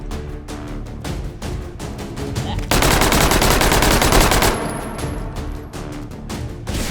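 Rapid automatic gunfire from the VR shooter H3VR, sharp repeated shots in a steady burst that swells into a dense, continuous roar mid-clip before thinning back to spaced shots.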